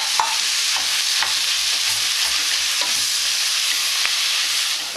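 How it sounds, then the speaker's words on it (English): Beef and pork mince fry in a pan for lasagne, giving a steady, close crackling sizzle with occasional scraping taps of stirring. "Now I'm going to add the mince. Put that in. And the pork. So beef and pork going in."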